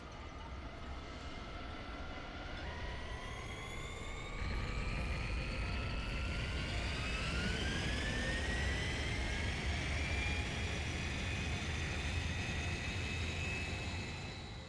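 Aircraft taking off in the Digimon Story Time Stranger video game: a steady jet-engine roar that swells after a few seconds while high whining tones climb in pitch, loud and continuous with no talk.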